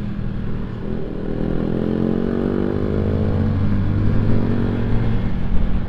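A motorcycle ridden on a road during a Sunday group ride, its engine close and loud, pitch climbing and falling as it revs through gears, with no talk over it.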